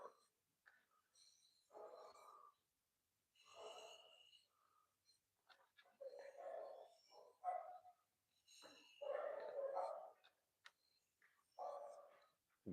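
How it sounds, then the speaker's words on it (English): Small yappy dogs barking in short, repeated bursts at a distance, faint and intermittent over a quiet background. "Yappy dogs."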